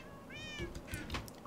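A cat in the video game Minecraft gives a single short, faint meow with a rising and falling pitch, followed by a few soft clicky game sounds.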